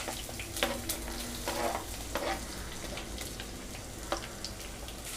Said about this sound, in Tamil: இதை வந்து நம்ம நல்லா ஃப்ரை பண்ணிக்கலாம்.